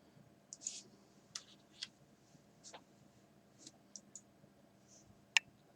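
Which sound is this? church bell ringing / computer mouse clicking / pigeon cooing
computer mouse clicking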